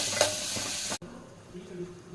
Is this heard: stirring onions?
yes